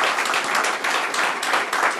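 Audience applause at a county council meeting, a steady wash of many hands clapping at moderate volume with slight surges, no voices over it.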